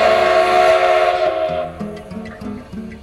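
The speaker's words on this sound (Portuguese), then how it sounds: "O primeiro apito anuncia que o trem está para sair" A Maria Fumaça steam locomotive sounds a long, loud, piercing whistle that cuts off, followed by the rhythmic chuffing of the engine as the train prepares to depart.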